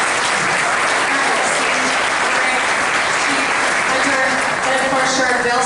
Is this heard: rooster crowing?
no